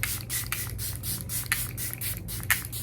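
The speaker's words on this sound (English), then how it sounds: "so we're gonna go with a melting spray" One Size powder melt setting spray is misted on in a rapid series of short, close, soft hissing bursts, with no talking.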